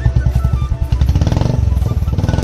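A motorcycle engine idles close by with a rapid, steady thumping beat and a deep, loud throb, and no talk is heard over it.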